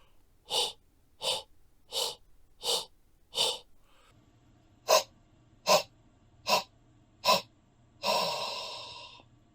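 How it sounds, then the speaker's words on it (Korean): Ten short, sharp breath exhalations with the soft palate raised, a choir singing exercise, come in a steady rhythm, close and fairly quiet, ending with one longer breathy release. "연구개를 올려서 시선 방향으로 호흡을 내뱉어 보겠습니다"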